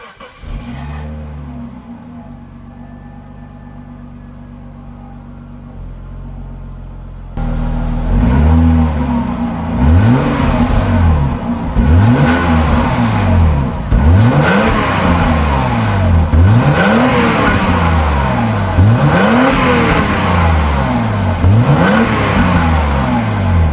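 A 30-year-old Jaguar XJ6 Sport engine idles, then is revved repeatedly in short rising and falling bursts, loud and close.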